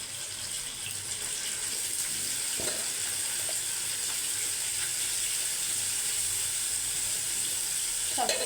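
Puti fish fry in a hot frying pan with a steady, close hiss and crackle that continues evenly throughout, with a few small clatters.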